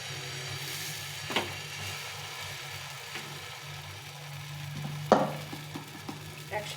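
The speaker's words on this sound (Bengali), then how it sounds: "এখন ব্যাটারটা দিয়ে দেবো, আমি ছোট ছোট করে ভেজে নেব।" Small flattened-rice (chira) batter pancakes frying in a little oil, giving a soft, low sizzle with a few sharper spatters and pops as batter hits the hot pan.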